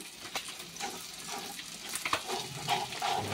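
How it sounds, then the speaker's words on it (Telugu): A fish marinade of salt, garam masala, ginger-garlic paste and yogurt is stirred in a bowl for fish biryani, giving soft, wet, squelching scrapes in an irregular rhythm, close and moderately quiet with no talking. "ఇప్పుడు దీన్ని బాగా కలుపుకోవాలి."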